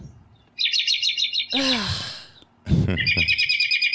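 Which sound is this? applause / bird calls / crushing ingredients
bird calls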